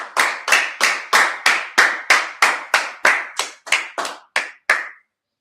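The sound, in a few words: audience clapping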